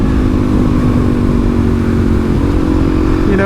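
A Suzuki DRZ400SM supermoto single-cylinder engine hums steadily and loudly while riding, with throttle rising slightly near the end and no talk.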